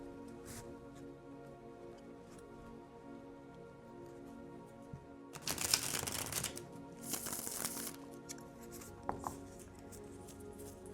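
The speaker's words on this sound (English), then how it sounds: "Shuffle these cards here." A deck of cards shuffled by hand at a table, a brief burst of riffling and rustling close by, followed by a few softer shuffles and taps in an otherwise quiet room.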